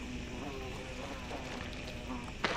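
Bees buzz in the Planet Alpha video game, a faint, steady insect drone that runs throughout, with a brief sharper burst near the end.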